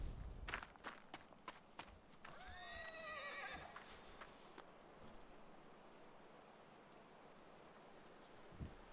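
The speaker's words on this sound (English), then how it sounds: "I heard the horse, I know that." Horse in the video game Rising World gives a clear, loud whinny partway through, framed by crisp clip-clop hoofbeats before it and a quieter low ambient bed afterward.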